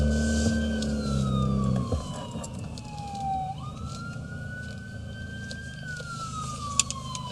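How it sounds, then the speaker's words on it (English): An ambulance siren wails and sweeps up and down in pitch as it works through stopped traffic, loud and close over a steady engine rumble. "Sorry, there's a ambulance coming that needs to get by."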